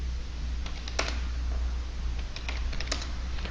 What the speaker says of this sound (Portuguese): digitando cd e pressionando Enter